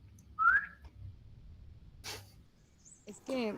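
A person whistles a short, bright rising note in a quiet classroom during a programming lab, followed by brief rustles and breathy noises.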